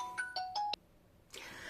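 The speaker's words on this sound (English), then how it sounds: "That was my phone ringing." A mobile phone ringtone plays a short run of bright, bell-like tones, several chiming notes in quick succession, then cuts off into near silence before a burst of noise follows.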